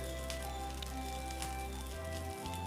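Curry leaves frying in hot oil over a medium flame make a steady, crackling sizzle with tiny spits and pops, over a constant low hum.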